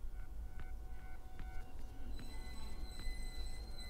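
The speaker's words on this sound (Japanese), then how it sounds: "電車が来ます。" A train pulls into a station platform in the video game 9番ホーム, with rhythmic wheel clicks over a low rumble and then a sustained tonal whine as it arrives, moderately faint and heard without talk.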